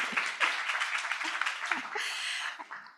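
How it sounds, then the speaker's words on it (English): Audience applause at the close of the opening session of a vocational education event, a dense patter of clapping that grows fainter toward the end, with a voice heard briefly over it. "A round of applause again."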